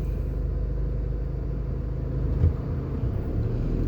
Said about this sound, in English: we're now driving out to the airport back towards the Palisades Strip